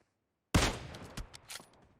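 A sharp burst of gunfire in the mobile game PUBG Mobile opens with a loud crack after half a second of silence, followed by several quicker, fainter shots.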